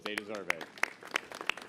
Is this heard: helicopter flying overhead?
no